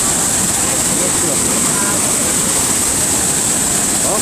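Iguaçu Falls roars as a steady, loud wall of rushing water, dense broadband noise filling the whole stretch without a break, heard close to the cascade.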